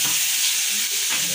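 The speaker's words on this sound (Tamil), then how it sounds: "இதை நம்ம நல்லா கிளறி விட்டுக்கலாம் ஃப்ரெண்ட்ஸ்" Steady bright sizzling of potatoes frying in a hot pan, with faint scraping as they are stirred, loud and close throughout.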